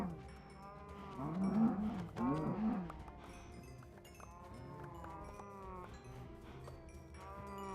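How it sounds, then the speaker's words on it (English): Cows mooing in the video game Minecraft, several drawn-out low moos in the first few seconds with softer game sounds continuing after, no talking. "It's not a bad Minecraft stream if I don't slaughter a bunch of cows."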